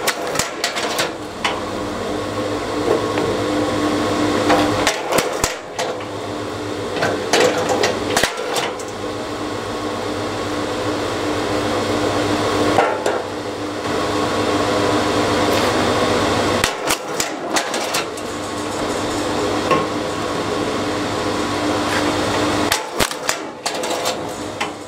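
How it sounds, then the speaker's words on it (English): A Hyundai HYLS7410 rapid action kinetic log splitter working through logs outdoors, with a steady motor hum broken by repeated sharp cracks and clatter as pieces split, several separate bursts across the span. "This has been the HYLS7410 Rapid Action Kinetic Log Splitter"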